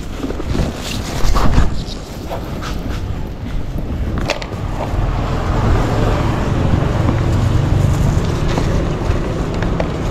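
An old boat motor, 17 years old, runs with a steady low rumble for the whole stretch, mixed with wind buffeting on the microphone and a few louder knocks early on.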